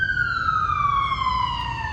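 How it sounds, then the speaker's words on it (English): An emergency vehicle siren, ambulance, police car or fire truck, wails outside in a loud, steady rising-and-falling tone, its pitch sliding slowly downward as it passes, with low traffic rumble beneath. "Every time I do a video, without fail, there's an ambulance, police car, or a fire truck."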